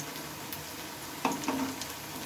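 Potato and egg puris made with flour and cornflour fry in hot oil, giving a soft steady sizzle with a couple of brief clinks and bursts as pieces are flipped in the pan.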